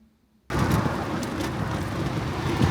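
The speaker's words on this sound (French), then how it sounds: "Moto!" A motorcycle roars past on a road after a half-second of near silence, its loud broadband engine and wind noise holding steady to the end.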